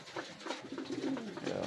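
Racing pigeons back home from a derby race coo in soft, rolling, throaty murmurs, several overlapping calls close by, steady and continuous without talk.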